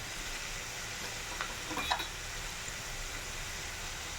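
Chilli powder, salt and spices fry in a pan with a faint, steady hiss and a brief scrape of stirring midway, quiet and close, with no voices.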